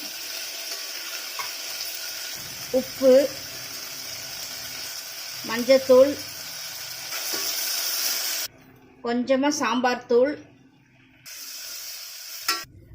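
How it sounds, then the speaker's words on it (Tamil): Onions and tomatoes sautéing in ghee in a pan, with a soft steady sizzle running underneath someone speaking at intervals, briefly broken by a pause before the frying hiss returns. "ரெண்டு தக்காளி அதை சேர்த்து வதக்கிக்கரலாம்"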